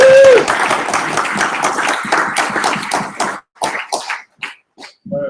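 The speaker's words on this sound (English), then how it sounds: "Yeah, let's clap." Applause from a meeting audience after a pitch presentation, a dense burst of clapping that thins out into a few scattered claps and trails off to silence.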